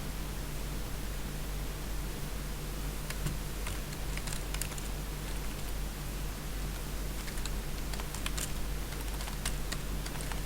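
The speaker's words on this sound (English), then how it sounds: "typing is slowing me down here" Soft, irregular keyboard clatter taps away in short bursts over a steady hiss of background noise, fairly quiet and close.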